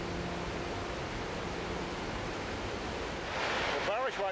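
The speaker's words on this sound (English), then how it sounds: "this waterfall. This river empties right into the sea. The waterfall hits the water." Waterfall water crashing into the Mediterranean Sea where a river empties over the Duden Waterfalls, a steady broadband roar throughout, with a voice briefly heard near the end.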